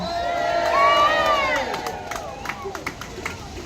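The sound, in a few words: crowd cheering at anti-racism rally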